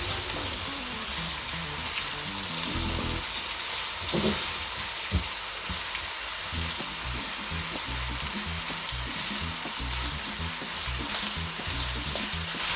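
Gambas al ajillo shrimp sizzle loudly in a pan, a dense, continuous crackle and hiss with a few louder pops and clinks of stirring, close by and with no talk.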